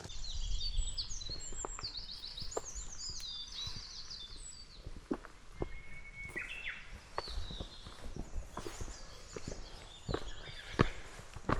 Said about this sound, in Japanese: 本当に鳥の声がめっちゃよく聞こえる。